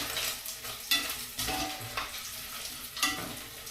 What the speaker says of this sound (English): I've got the bacon frying.